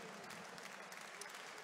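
Applause from an awards-ceremony audience for national absolute-category champion Ana Pinho Rodrigues, a steady dense clapping that is fairly faint and distant, filling the whole short stretch without a break.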